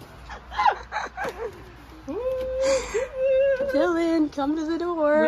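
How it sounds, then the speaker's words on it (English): A dog whimpers and yips in high, wavering, drawn-out cries behind a house door, fairly close, following a person calling out at the start. "Oh, there's the dog."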